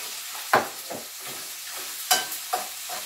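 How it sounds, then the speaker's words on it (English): Pork, garlic and onion sauté in a pan for pansit guisado, a steady sizzle punctuated by several sharp stirring scrapes, heard up close with no voices. "we are cooking pork, and let's put the garlic and the onion"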